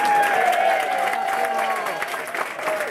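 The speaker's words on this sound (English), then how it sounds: "Clap it up for him." An audience at a storytelling event claps and cheers steadily for a storyteller taking the stage, a diffuse wash of applause with voices rising above it.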